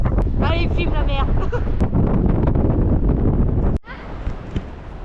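Strong wind by the sea in San Francisco buffets the microphone in a steady, loud roar, with people talking over it; the gusting cuts off abruptly near the end and continues more softly.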